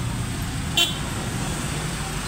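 Heavy roadway traffic in Manggahan, Pasig, after a storm, a steady close engine and road rumble with one short car horn toot partway through.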